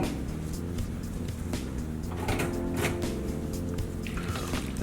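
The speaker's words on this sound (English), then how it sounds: "And then we're gonna add our tomato juice." Tomato juice pours into a bowl of gazpacho, a steady liquid splashing and dripping that carries on close and fairly loud throughout, with no talk over it.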